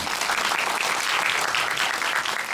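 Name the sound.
audience applause for director and actors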